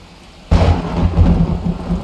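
Thunder in the survival video game 7 Days To Die breaks in suddenly as a loud, deep rumble and rolls on with heavy rain, with no talking.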